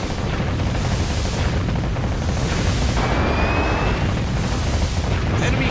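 An enemy warship sinks in the naval combat game Warship Gunner 2 amid loud, continuous booming explosions and roaring battle noise that swell and recede in waves across the whole stretch.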